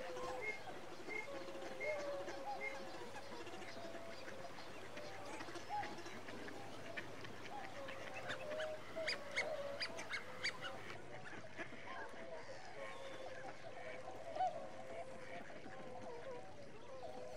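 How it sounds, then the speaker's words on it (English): Mixed flocks of tufted ducks, red-crested pochards, ferruginous ducks and coots on Gajoldoba Wetland near Siliguri give scattered honks, quacks and chattering calls over a steady, busy wetland background, some calls near and others farther off. "Tufted ducks were in good numbers and flocked together in mixed groups with red-crested poachers, ferruginous ducks and common coots."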